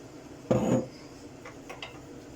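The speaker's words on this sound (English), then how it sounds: "what I'll do now is add some water" Half a litre of water poured into a pan of tuna and rice with fried tomato sauce, a short splashing burst of under a second, near and fairly loud, followed by faint clinks.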